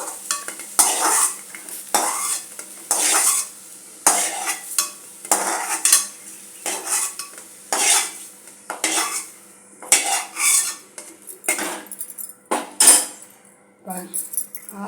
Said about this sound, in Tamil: முள்ளங்கி நல்லா வதங்கிடுச்சு